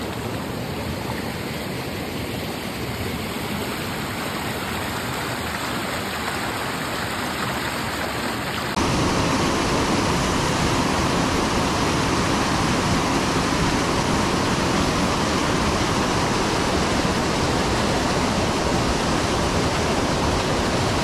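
A mountain stream in the Pyrenees rushes in a steady, dense wash of water noise that jumps noticeably louder partway through, with no voices.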